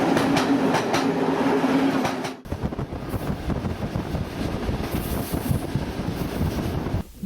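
An international passenger train runs at speed on a single-track line across the Hungarian plain, with a steady close rumble and wind roar, then after a sharp cut a rhythmic clickety-clack of wheels over rail joints.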